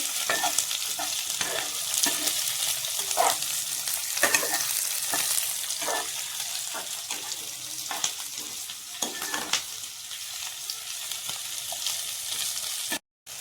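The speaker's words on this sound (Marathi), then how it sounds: "कट केलेली शिमला मिरची टाकून घ्यायची आहे. छान मिक्स करून घ्यायचं आहे." Chopped capsicum frying and being stirred in a pan for soybean chilli, a steady sizzle broken by repeated scraping strokes of the spoon, close and loud with no talking.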